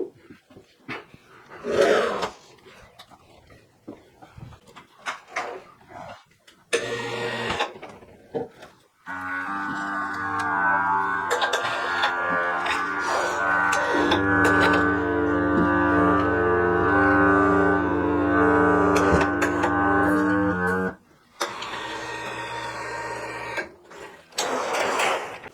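Vacuum lift motor moving a wood slab back onto a CNC machine in a workshop, a steady loud mechanical hum and whine running about twelve seconds, framed by scattered clunks and handling noises.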